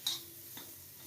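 A spoon scrapes twice, softly and close, through a chilli curry base for Hyderabadi mirchi salan simmering in a pot, each scrape brief against a quiet background.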